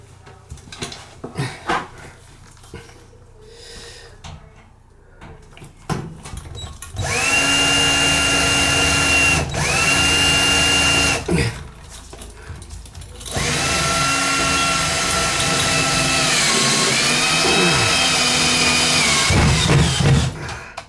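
A power drill drives screws into copper fin baseboard in a rotted-out bathroom, its motor whining loud and steady in long bursts that dip and pause between screws, with clanking handling noises in the gaps.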